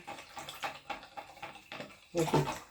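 Water is poured into a small amount of adjuvant solution and stirred in while preparing a bio-treatment for eggplant seeds, heard as a series of short splashy stirring bursts with a louder pour at the end.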